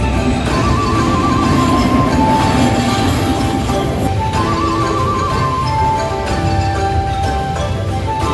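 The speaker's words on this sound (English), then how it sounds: "the trains pass really close to you and the buildings. It's noisy" A train in Tokyo roars by very close, passing near buildings, a loud continuous rumble with metallic wheel squeals and hum throughout, no voices.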